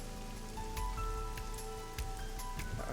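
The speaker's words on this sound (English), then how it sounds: "Parasol's getting pelted by the rain." Rain pelts a parasol in the video game Ai: The Somnium Files, a steady dense patter with scattered sharper drops over a constant background hum and faint tones.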